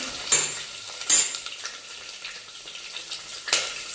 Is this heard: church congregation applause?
no